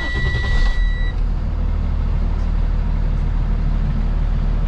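A 2016 Freightliner M2 106 box truck with a Cummins 6.7-liter diesel starting up, a brief warning beep and crank giving way to a loud, steady deep diesel idle close by.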